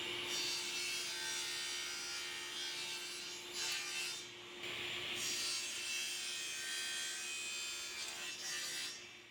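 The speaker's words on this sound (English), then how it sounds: "which I'm gonna do here at the table saw." A table saw cuts miters in blue wood frame pieces, its loud, whining blade roaring through the stock in several sustained passes with brief dips between cuts.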